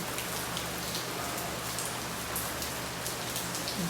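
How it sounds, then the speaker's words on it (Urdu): Steady rain falling outdoors, an even hiss of drops striking surfaces throughout, moderately loud and continuous, with no voices. "ماشاءاللہ ادھر سے بارش کا منظر"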